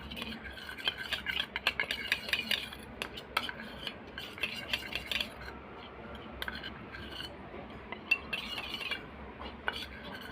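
Rice flour, curd and turmeric are stirred together into a thick face pack in a bowl, giving a steady run of scraping and clinking strokes from a close spoon, with no talking.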